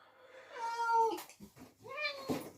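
A domestic cat meows twice indoors, close by: a long, rising and falling cry followed after a short gap by a second, shorter meow.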